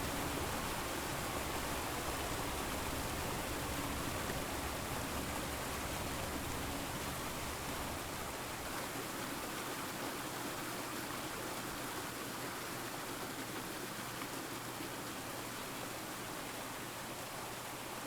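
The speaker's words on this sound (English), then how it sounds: "I love the sound of rushing water and nothing else." Rushing water in the video game Call of the Sea pours steadily as a dense, continuous roar, loud and unbroken throughout with no voices over it.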